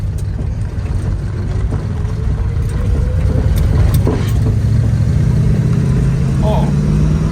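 A 1974 Dodge Charger driving in first gear on a road test, its engine droning steadily and rising slightly in pitch as it accelerates, loud and continuous with a rough, knocking undertone.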